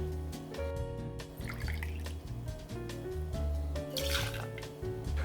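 Hayman's gin poured for a Casino cocktail, a faint close trickle and dripping of liquid with soft clinks, quiet and alone.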